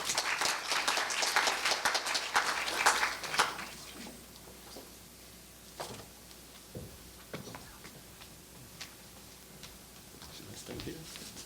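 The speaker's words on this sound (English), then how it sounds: "Please give him another round of big applause." Audience applause at a university conference, a loud burst of clapping for the first few seconds that quickly thins into a few scattered claps and faint room noise.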